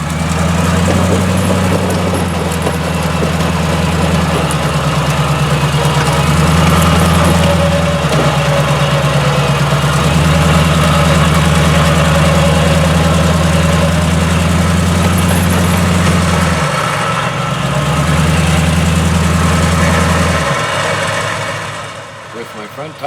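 Vehicle engine idling steadily while a winch pulls a Toyota up a snowy hill, a loud low drone throughout that dips in pitch now and then, with a voice talking over it.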